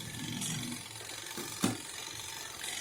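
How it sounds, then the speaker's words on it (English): A Zokop portable washing machine's dryer runs quietly with a soft, steady mechanical hum, broken by faint, irregular clicks and one sharper tick. "Now you can see the dryer makes like a little nagging, clicking type of sound"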